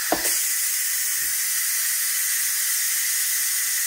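A Ninja Foodi pressure cooker vents steam after cooking cream of chicken soup, giving a brief thump and then a loud, steady, close hiss that continues without a break.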